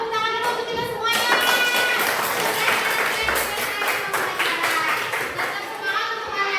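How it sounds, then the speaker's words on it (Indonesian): A group claps together in brisk rhythmic bursts, fairly close, with children's voices and chatter mixed in. "Tepuk tangan dulu untuk kita semuanya."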